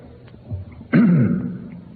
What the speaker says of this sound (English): you still need to keep coughing like that